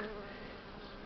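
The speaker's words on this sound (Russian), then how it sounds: "Когда пчелы облетываются" Steady, dense buzzing of many honeybees on a cleansing flight over a snowy apiary, continuous and close, with no pauses.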